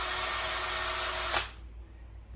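A power drill spins loud and steady with a high whine while its trigger is held, then cuts off abruptly and winds down into near quiet.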